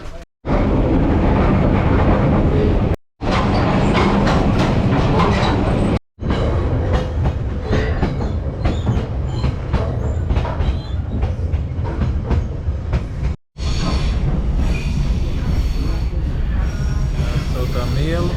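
A passenger train in Tanzania rumbles along with steady clickety-clack of wheels on rails and occasional squeals, heard loud and close from on board across several cuts, with some voices faintly present.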